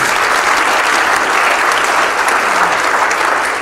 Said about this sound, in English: let's give him and his team a round of applause, too